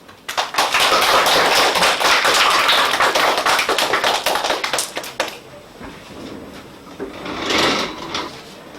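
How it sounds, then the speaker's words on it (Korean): Students in a university mock geography lesson clap for a classmate who has presented, a brisk burst of dense clapping for about five seconds that thins out, then a brief, softer swell near the end. "앞에 나와서 발표해주는 친구에게 박수 해주면서"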